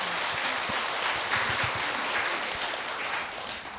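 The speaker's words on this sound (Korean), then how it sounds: "박수로 맞으시고" An audience at a Korean Buddhist dharma talk claps steadily to welcome a laywoman stepping up to ask a question, a dense, even wash of hand claps that fills the hall for a few seconds with no voices on top.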